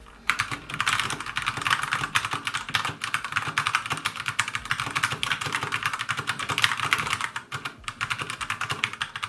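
Rapid, continuous typing on a mechanical keyboard with Cherry MX Brown switches, dense clacking keystrokes up close with no talking.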